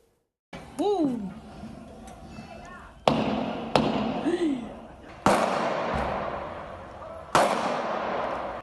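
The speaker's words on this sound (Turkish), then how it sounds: "Mermiler havada uçuştu." Sharp gunshots in a street shootout in a Rize neighbourhood, five loud reports spaced a second or two apart, each ringing out with a long echo, while voices shout between the early shots.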